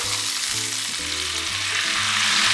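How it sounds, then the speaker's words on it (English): Marinated ribeye steaks sizzle loudly on a hot grill as they are flipped, a dense, close, continuous hiss with a low tonal hum running underneath. "So we're going to do our first flip."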